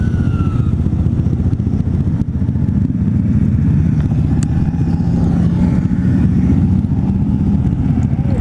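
A group of Honda Grom and Kawasaki Z125 motorcycles rides together at a meet, their engines making a loud, steady drone that stays close for the whole stretch, with no talk.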